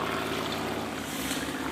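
Camper toilet flushing water through to its holding tank, a steady rushing, sloshing water flow heard close by, continuous throughout with no talk.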